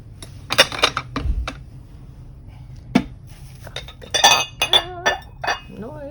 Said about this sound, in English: Noisy cup.